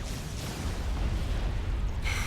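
A large in-game explosion in a video game, a loud sustained rumbling roar of low-end boom and crackle lasting a couple of seconds, heard alone without talking.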